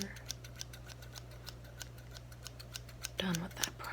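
Steel scissors snip through men's hair during a close shave and trim session, a steady run of crisp, evenly spaced clicks sounding near and soft, followed by a brief rustle at the end.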